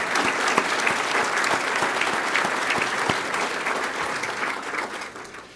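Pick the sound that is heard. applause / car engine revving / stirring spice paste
applause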